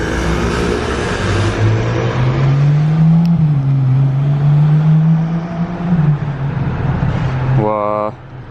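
A Ferrari F12 TDF supercar drives past on a street in Monaco, its engine droning loudly and steadily with a rising and falling pitch, then fading near the end, while people talk throughout.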